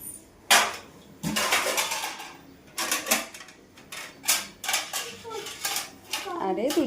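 Plates and cutlery clattering while breakfast is plated at home, with a run of sharp clinks and knocks in uneven bursts, close by, without talk.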